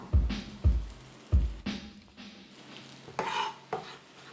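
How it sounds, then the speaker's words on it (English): Mushrooms sweating in a pan for Swedish vegan balls: a soft sizzle beneath several sharp, rhythmic spatula strokes scraping and knocking against the pan, fairly close, with no talking. "sweating the mushrooms"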